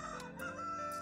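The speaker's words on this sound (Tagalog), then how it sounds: "maingay yung manok." A rooster crows loudly and close by, a single drawn-out call with harmonic tones.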